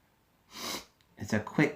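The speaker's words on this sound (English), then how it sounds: "breath in through your nose when you sniff something" A quick sniff through the nose, sounding twice as short nasal inhalations near the end after an earlier breathy rush of air, close and fairly quiet.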